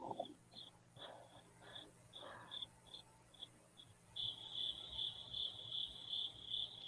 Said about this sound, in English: Why am I hearing crickets?